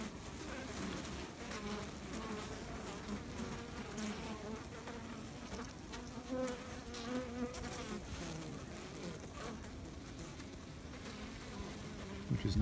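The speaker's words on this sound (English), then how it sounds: "these bees are actively eating this patty" Honey bees feed on a protein patty on a cold, snowy day, filling the stretch with a close, continuous buzzing hum from many insects.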